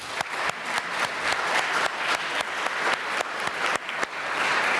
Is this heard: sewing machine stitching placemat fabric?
no